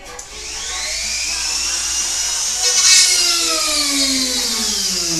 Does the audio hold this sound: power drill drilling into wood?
yes